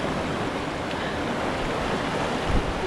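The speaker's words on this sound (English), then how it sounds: "Grouse Creek Falls is a very invigorating series of falls," Grouse Creek Falls, a series of falls, pools and cliffs in Idaho, gives off a constant broad roar of rushing water, loud and unbroken, with no voices over it.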